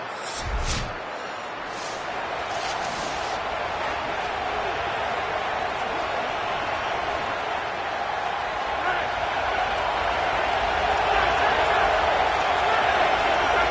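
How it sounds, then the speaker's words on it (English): A stadium crowd roars steadily in an NCAA college football video game during an Iowa versus USC matchup, building slightly in volume, with an announcer's commentary running over it. "Decibels rising as the crowd gets behind this defense"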